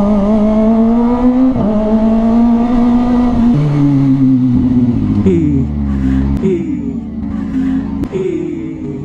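A Kawasaki ZX25R inline-four motorcycle engine revs hard and loud up close, its pitch climbing and dropping through several throttle blips with sharp shifts between revs.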